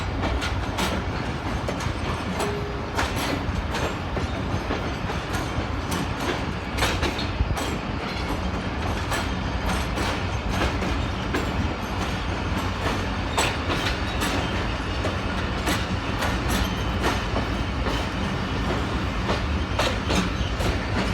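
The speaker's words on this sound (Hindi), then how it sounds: "बहुत ही लंबी ट्रेन है ये भी" A very long passenger train rolls steadily through Karachi Cantt station, its wheels clattering in a continuous loud rumble with rhythmic clicks and faint squeals, and no voices.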